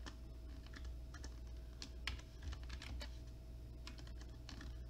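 Someone types a password on a computer keyboard, a quick run of light, irregular key clicks, close and faint over a low steady hum, with no talking.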